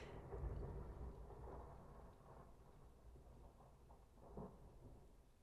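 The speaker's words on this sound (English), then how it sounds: "I hope you could hear that thunder." Deep rolling thunder from a storm over Seattle rumbles at a distance, swelling near the start and again briefly toward the end, with a faint wash of rain and no talking.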